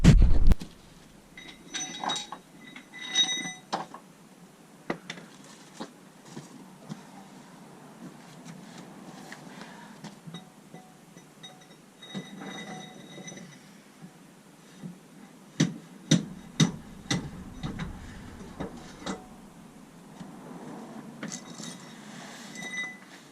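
A Land Rover Discovery 4 steering shaft is forced off the column with a solid metal bar, giving scattered metallic clinks and knocks close by, with dense bursts near the start and again later.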